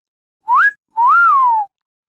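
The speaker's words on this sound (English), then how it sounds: "And then there's this whistle." Two whistled notes from a person, clear and close: a short rising one, then a longer note that swoops up and slowly falls.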